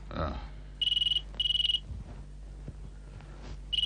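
A telephone trills in short repeated bursts of rapid pulsing rings, three rings in all, with quiet room noise between them.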